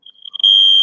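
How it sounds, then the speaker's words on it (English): A hotel fire alarm test sounds a piercing, loud electronic tone, starting as a faint, wavering beep and then jumping to a steady, full-volume continuous blare. "there's going to be fire alarm tests all throughout the day, starting at a certain time"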